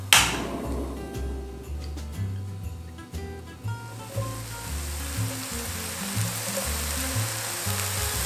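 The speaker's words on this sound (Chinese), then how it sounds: "先把我们的菇类还有老姜，把它煸到焦黄酥脆的样子" Mushrooms and aged ginger fry in a little vegetable oil in a flat pan, browning until crisp, with a steady close sizzle and occasional stirring knocks running throughout.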